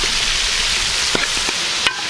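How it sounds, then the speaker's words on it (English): Saag greens frying in a little oil with onions and chilies at a village street-food stall in Gilgit, a steady close hiss and sizzle with a few sharp stirring clacks of a utensil. "just kind of frying that in a little bit of oil with some onions, some chilies"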